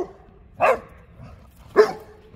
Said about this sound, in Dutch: die doet Tijna blaffen